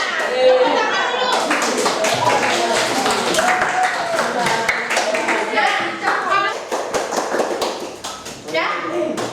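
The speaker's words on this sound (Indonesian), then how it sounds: "Tepuk tangan dulu." Children in a classroom clap their hands together in a dense burst of rapid, overlapping claps and taps, with lively young voices talking and cheering over and under it.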